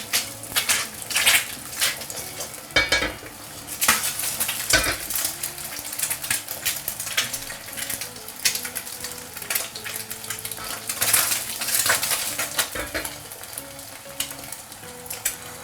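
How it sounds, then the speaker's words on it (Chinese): Two eggs frying in a little oil in a non-stick pan, a steady close sizzle and crackle with scattered utensil clinks and scrapes, no talking. "我们煎2个蛋，锅里给少许的油。"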